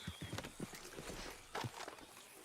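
Horse hooves clip-clop at a walking pace in the Red Dead Online Wild West game, a loose run of soft, fairly close thuds over faint background ambience.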